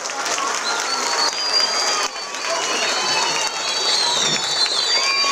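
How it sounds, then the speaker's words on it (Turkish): Applause and cheering from a crowd at a youth football festival award ceremony, dense clapping mixed with whistles and excited voices, fairly loud throughout. "Onlara da bir alkış gönderelim."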